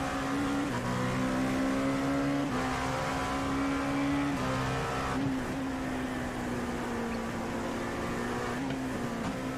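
LMP2 prototype race car in iRacing at the Nürburgring, its engine droning loud and steady at high revs, with pitch dips at each gear shift and brief lifts, continuous and close throughout.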